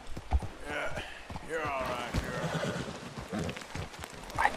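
A horse in the video game Red Dead Redemption 2 whinnies in a few quavering bursts among hoof clip-clops and other game noises, fairly quiet and mixed under a busy soundscape.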